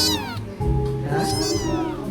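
A pet cat meows close to the microphone in a short run of loud, drawn-out calls, slightly strained, with no talking over it.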